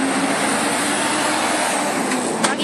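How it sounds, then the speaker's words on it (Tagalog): A cargo truck passes close by with a loud, steady engine roar and broadband road rumble, joined near the end by a brief hiss like an air brake. "Ang ingay nung cargo truck."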